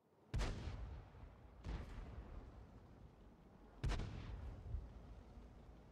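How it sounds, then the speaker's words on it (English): Tank cannon shots in World of Tanks during a Tier 8 skirmish battle: three heavy booming blasts, each a sharp crack followed by a long rumbling decay, spaced irregularly over continuous low battle noise. "We put a few shots into them"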